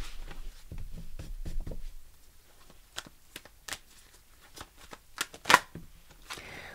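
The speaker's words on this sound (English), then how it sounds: "Let's do one more shuffle." Tarot cards being shuffled by hand: soft riffling and patter at first, then scattered light slaps and taps of cards, quiet and close with no talk.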